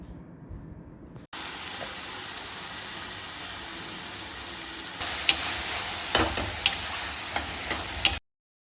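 A tempering of chopped onion, green chilli and tomato hits hot oil in a pan for tandoori baingan bharta, bursting into a loud, steady sizzle after a quiet start, with a few sharp clinks of stirring toward the end.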